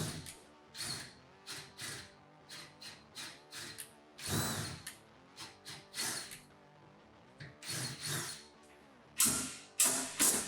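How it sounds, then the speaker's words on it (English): A power drill whirs in repeated short bursts, boring a screw-head recess in wood with a larger bit, each spin-up and stop close by, with brief pauses between the runs. "use a larger drill bit that's slightly larger than the size of the screw head to drill a small recess"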